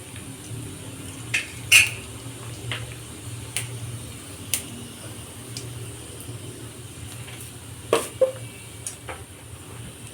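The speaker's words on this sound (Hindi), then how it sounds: "जीरा को तड़कने देंगे।" Cumin seeds crackle in hot oil, with sparse, sharp pops and ticks scattered over a quiet low hum, faint and intermittent, with no one speaking.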